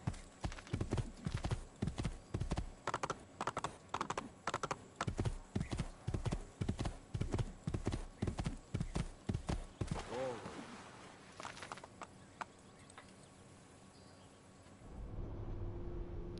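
Brisk, regular clip-clop of horse hooves trotting for several seconds in the video game Assassin's Creed 2, then stopping; a low hum of background noise follows after the hoofbeats end.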